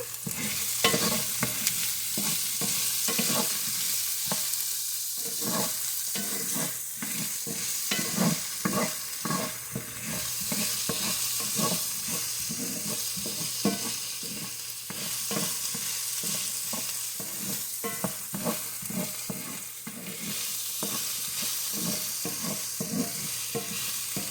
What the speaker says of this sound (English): now I'm going to add in my onion